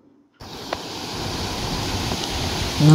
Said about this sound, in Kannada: ಅಲೆಗಳದ್ದು ಸೌಂಡು ಕೇಳಲಿಕ್ಕೆ ಎಷ್ಟು ಚೆಂದ ಅಲ್ಲ